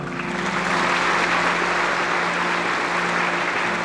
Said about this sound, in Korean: 큰 박수 축하해 주시기 바랍니다.